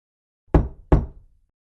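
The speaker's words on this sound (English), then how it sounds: "Jane knocks on Grandma's door" Someone knocks twice on a wooden door, two sharp, resonant knocks close together in quiet surroundings, with no talking.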